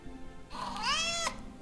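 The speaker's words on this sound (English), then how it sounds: "Oh. Kitty cat." A single drawn-out cat meow from the Christmas Stories: The Gift of the Magi hidden-object game, rising then falling and ending abruptly, clear and close with no talking.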